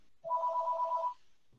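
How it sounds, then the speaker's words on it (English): An electronic phone ringtone sounds once, a close, warbling two-tone trill lasting about a second before it cuts off abruptly, followed by near silence. "Oh, 1 second, turn off this phone."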